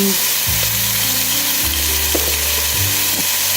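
Hamburger beef frying on medium heat makes a loud, continuous sizzle close by, with no talking over the dense crackle.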